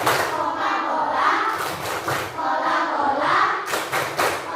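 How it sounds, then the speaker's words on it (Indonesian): A class of primary school children chant together while clapping in rhythm, their voices loud and close with thumping claps and hand slaps mixed in. "Tepuk Coca-Cola."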